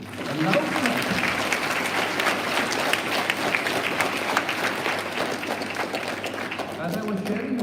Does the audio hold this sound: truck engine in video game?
no